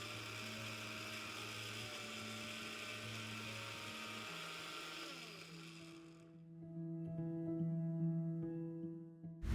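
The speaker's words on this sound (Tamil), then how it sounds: "மிக்ஸி ஜாரில் நல்லா ஃபைனாக அரைச்சி எடுத்துக்கலாம்" A mixer grinder whirs loudly at high speed blending Indian borage leaves, then drops to a lower, rougher churning hum as it keeps blending.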